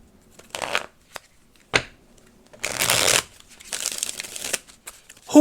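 Tarot cards being shuffled by hand in short crisp riffles and bursts of rapid flutter, several separate shuffles close by with quiet gaps between them.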